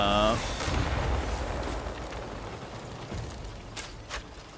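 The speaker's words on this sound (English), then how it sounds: "Airstrike." Rumbling, sustained blast noise from airstrike explosions in the video game Crimson Desert, with a dense, roaring wash of sound that slowly fades, plus a brief voice at the start.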